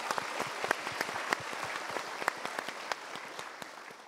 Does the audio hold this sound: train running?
no